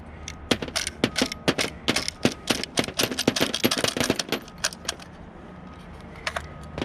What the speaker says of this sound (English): this is a really cool tool to unload the magazine